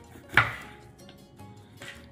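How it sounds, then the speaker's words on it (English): A knife chops peppers into strips on a board: one sharp, fairly loud cut followed by a few softer, sparse taps, close by with no talking. "So we're just going to chop these up. We like to do them in strips."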